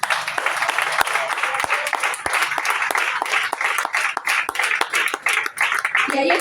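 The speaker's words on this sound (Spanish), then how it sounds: "Amén, aplauda a Dios." Congregation at a Spanish-language church service applauding, dense continuous clapping with a few louder individual claps, mixed with crowd voices throughout.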